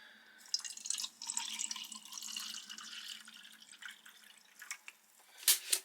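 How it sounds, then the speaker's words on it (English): Water, 250 ml, is poured into a container to mix a lemon isotonic drink from a Bundeswehr individual combat ration; a soft, steady splashing pour lasts a few seconds, then thins into quiet trickles and a couple of small clinks. "We'll get our 250 ml of water in there as requested."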